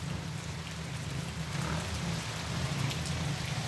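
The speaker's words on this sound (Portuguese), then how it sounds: "Muita chuva." Heavy rain pours steadily on a rural farm property on a rainy Sunday, a dense, continuous hiss with low rumbling underneath and no voices.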